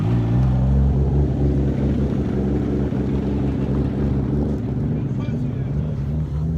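Car pulling away from a car meet, a loud, steady low engine rumble filling the whole stretch, with people talking nearby over it.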